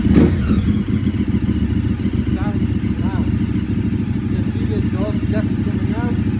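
A Ducati superbike engine idles steadily with its exhaust servo removed, the exhaust gas pulsing out in a constant loud, rough drone that continues without a break.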